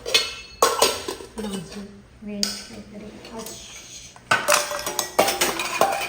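Dishes and cutlery clatter and clink in bursts nearby, with a person talking over the kitchen noise.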